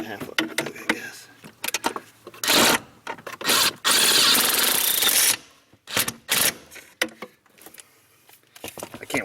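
A cordless power tool driving bolts on a low torque setting while replacing a hydroboost hydraulic brake booster on a GM truck, giving several short whirring bursts and one longer run, with someone talking between them.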